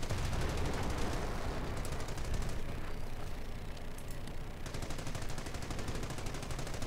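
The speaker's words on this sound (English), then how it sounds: "Corny's managed to capture that MG, and it's pinning all this infantry." A captured machine gun in a video game fires rapid, continuous bursts at infantry, a dense rattling stream that stays loud and close nearly throughout, with brief dips between volleys.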